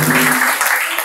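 Applause from a church congregation during a Mass and church-building launch in Nsinsani, a dense burst of clapping with a low voice line fading early, lasting about a second.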